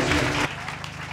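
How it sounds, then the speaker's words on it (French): A church congregation applauds loudly during a service, a dense burst of clapping with musical accompaniment underneath that cuts off abruptly, leaving quieter music and a few stray claps. "On applaudit encore."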